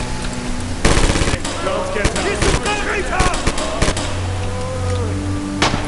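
Rifle fire in Red Orchestra 2 at Stalingrad, several sharp single shots cracking out at irregular intervals amid background battle noise, with someone talking over them.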